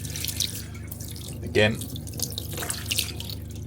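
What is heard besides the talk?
cold water running from a motorhome tap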